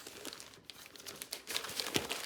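Sheets of designer paper for scrapbooking are handled and crinkled up close, a run of dry crackling rustles that grows louder and busier toward the end.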